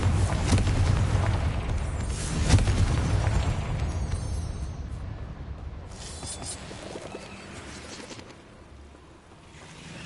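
A Confringo fire spell explodes in the Hogwarts Legacy video game, a loud broadband blast with a sharp burst that rolls into a long rumbling decay over several seconds, with no talk.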